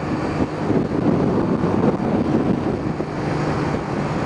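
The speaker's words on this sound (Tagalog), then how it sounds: "Ganda ng tunog ng makina pagka ganun eh." A car engine drones steadily while driving on an open road, with a continuous low rumble and broadband road noise and no talking.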